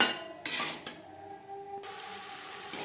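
Jackfruit curry with fried potatoes and spices being stirred in a pot over a low flame, giving a few scraping clinks of a utensil against the pot and a faint sizzle between them, with no talking.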